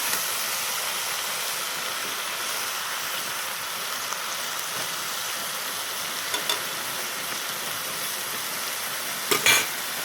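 Small fish, leafy greens and spices sizzle steadily in a pan while being stirred, a dense continuous frying hiss with occasional scraping knocks near the end, close and fairly loud.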